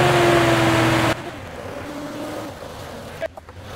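A home-built Datsun 240Z engine runs loud and steady for about a second, then cuts to a much quieter, smoother idle hum with faint background noise.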